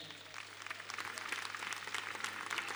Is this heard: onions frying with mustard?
no